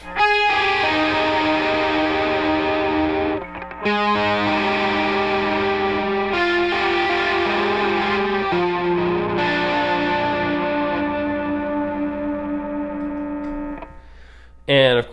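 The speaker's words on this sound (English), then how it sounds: "And you definitely also hear a lot of chorus as well, especially on like higher picked out stuff." Electric guitar in a nu-gaze style, heavily distorted and washed with chorus, sustaining bright layered chords with brief breaks around four and nine seconds before fading near the end.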